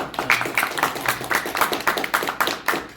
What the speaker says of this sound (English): I would like to give an applause for him for coming all the way from Peru